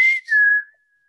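A voice whistles to imitate the strikeout whistle played at a baseball stadium, a bright two-part whistle whose steady tone slides slightly lower, then stops abruptly, with nothing else heard.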